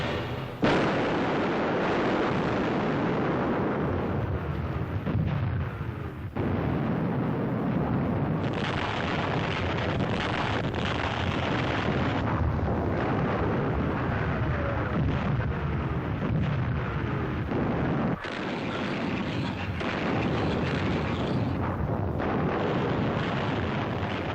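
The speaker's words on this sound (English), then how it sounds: "Shells, bombs, rockets were loosed against the beaches" Shells, bombs and rockets explode along World War II invasion beaches in a continuous, dense, rumbling barrage, loud and broadband with no clear gaps, and a few sharper bursts standing out.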